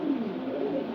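Male pigeons coo in a low, soft throaty burble, close by and brief, with no talking.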